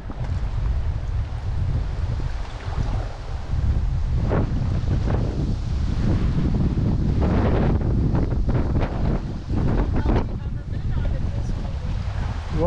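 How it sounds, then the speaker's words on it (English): Strong wind buffets the microphone with a constant low roar while canoeing down a river, voices talking faintly underneath and water splashing nearby. "Well, it's pretty windy."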